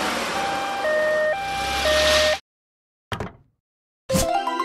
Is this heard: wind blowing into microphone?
no